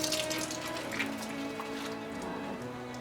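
Fabric being wetted in warm water for dyeing, with a steady, fairly faint running and splashing of water in a sink throughout, with no one talking.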